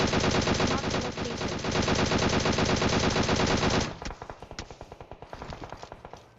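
An M4 rifle fires in full-auto bursts in the PUBG video game, a loud continuous rattle of rapid shots that breaks off into sparser, separated shots and echoes toward the end.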